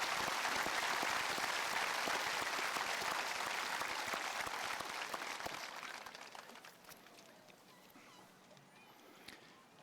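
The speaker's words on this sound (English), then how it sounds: "Let's give these individuals a round of applause." Audience applause for high school faculty and staff at a school event, a dense wash of clapping that holds steady, then thins and fades over the last few seconds.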